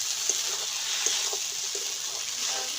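Water is poured into a pan of cooking spice paste for a chuno fish and kochur loti curry, making a steady rushing hiss that runs evenly throughout with a few faint clinks underneath.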